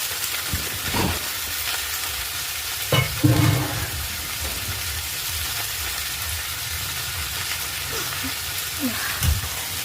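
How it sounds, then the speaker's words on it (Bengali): Five mixed vegetables frying in a pan for a vegetarian dish, giving a dense, continuous sizzle with occasional louder stirring scrapes and bumps over nearly ten seconds. "এবার ভালো করে ভাজিয়ে নেবো।"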